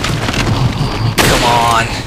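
A sharp, loud gunshot in Resident Evil 4 cracks out after a moment of low game ambience and rings into a brief reverberant tail, with someone talking around it.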